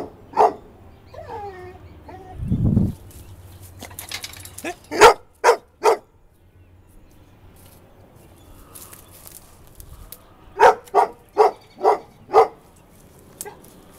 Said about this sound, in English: while the dog is barking